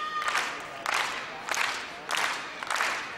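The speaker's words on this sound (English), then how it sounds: "Crowd getting behind the English pairing" A badminton crowd at the Swiss Open mixed doubles final cheers and claps in five short, loud bursts, evenly spaced with brief lulls between them.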